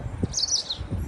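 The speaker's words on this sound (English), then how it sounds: "You just hear the birds chirping" Birds chirp in a backyard garden: faint high twittering calls rise briefly in the middle of the clip over a low rumble of wind and distant traffic.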